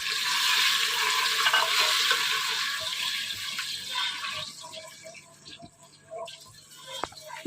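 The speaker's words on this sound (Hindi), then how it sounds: "मसाले को हम अच्छे से भून लेते हैं।" Masala spices fry in about half a cup of hot oil in a pressure cooker for bhuna masoor dal, giving a loud, steady sizzle for several seconds that fades into quieter crackling with a few sharp clinks.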